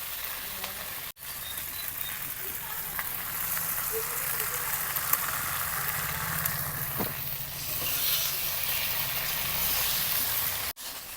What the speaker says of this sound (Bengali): পোস্ত দিয়ে অল্প সময় ভেজে নিলাম